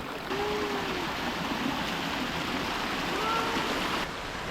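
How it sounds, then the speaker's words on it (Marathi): A waterfall stream pours beside a forest trail on the Karnala Fort trek while shoes are washed in it, a loud, steady rushing gush of water that holds constant for several seconds, nearby and with no talking. "एका वॉटरफॉलच्या इथं आलोत उतरत आता शूज धुवून घेतो आहे."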